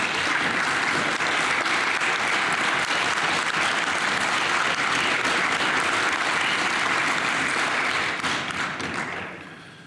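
Sustained applause from lawmakers in the Slovenian National Assembly chamber, a dense, loud wash of many hands clapping for nearly ten seconds before tapering off at the end.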